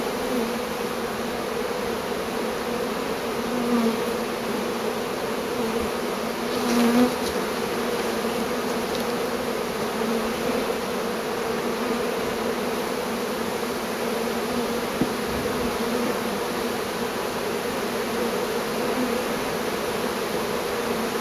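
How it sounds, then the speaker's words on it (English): A swarm of bees buzzing around a treasure chest, a steady, dense hum that carries on unbroken for about twenty seconds, close and moderately loud, with no voices. "Lot of bees."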